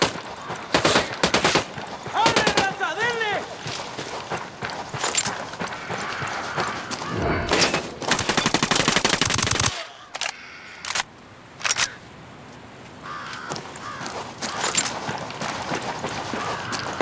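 Gunfire in the video game Tom Clancy's Ghost Recon Wildlands: loud, sharp bursts of automatic shots come in uneven volleys, with short lulls and lighter clatter between them.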